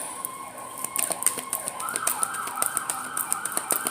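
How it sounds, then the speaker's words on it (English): Emergency sirens wail continuously with a rising, wavering tone, with steady clicks or taps through it and no talking. "All right, you hear them sirens."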